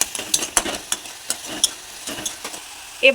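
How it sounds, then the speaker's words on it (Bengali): Boiled pumpkin is stirred lightly in a pan, a run of soft scraping and clicking strokes at an irregular rhythm, close and quiet, with a faint sizzle underneath. "এবার একটু হালকা করে ঘেটে নেব।"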